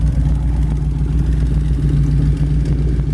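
An all-steel 1932 Ford two-door Tudor sedan resto rod, its exhaust exiting on both sides, idles with a steady, deep, low burble, close and even, with no one talking.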